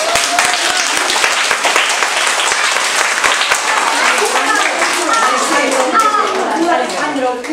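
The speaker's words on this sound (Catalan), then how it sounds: "un fort aplaudiment, d'acord?" A children's audience at a storytelling session bursts into loud, sustained clapping, with sharp individual claps close by at first, then children's chatter blending in as the applause carries on.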